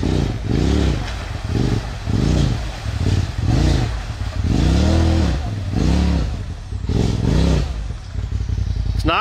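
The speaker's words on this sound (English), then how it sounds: "Whoa, he's revving her up." A side-by-side off-road vehicle, a Pro XP or Maverick X3 on Drummond Island, revs its engine repeatedly in loud, rising and falling bursts, close by with clattering in between.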